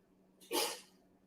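A single short sneeze bursts out nearby against a quiet background.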